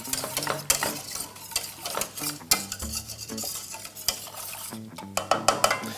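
A milk, flour and sugar mixture is stirred in a pot, with busy close scraping and clinking of a utensil against the pot and rapid, irregular strokes throughout.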